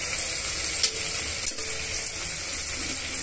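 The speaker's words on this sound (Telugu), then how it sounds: "ఉల్లిపాయ ముక్కలు, పచ్చిమిరపకాయ ముక్కల్ని బాగా వేయించేసుకుందామండి." Chopped onions and green chilies fry in a pan for hotel-style bagara rice, giving a steady close sizzle with a faint clink or two of a stirring utensil and no talking.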